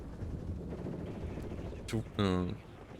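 Mortar and small-arms fire in the Cold War strategy game WARNO: a steady low rumble of distant battle under faint commentary, then two sharp close blasts near the end, the second louder with a ringing tail.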